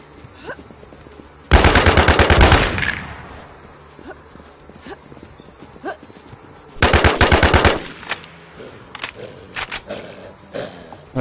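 Machine gun fire in a video game comes in two long, loud automatic bursts, with quieter scattered footsteps and game sounds between them, and no voices.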